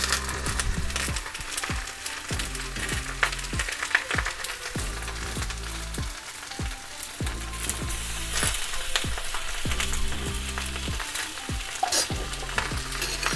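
Vegetables cooking in a pan for a home hibachi dinner, with organic green seasoning added, give a steady, close hiss of sizzling with occasional stirring scrapes running the whole time, no voices.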